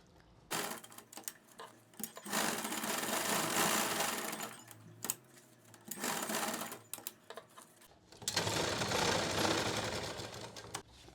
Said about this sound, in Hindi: अब इन्हें एक दूसरे के ऊपर रखेंगे और सिल देंगे।